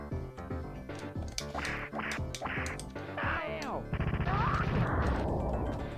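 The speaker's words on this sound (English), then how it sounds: "Exploding bird." In the Earthworm Jim video game, a bird quacks and squawks among rapid bursts of blaster fire and sharp hits over chiptune-style game music, building to a dense, noisy explosion near the end.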